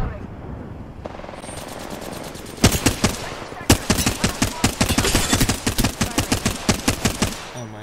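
Gunfire in a video game: loud, close, rapid automatic bursts with sharp repeated shots, firing in long sustained strings after a brief quieter start.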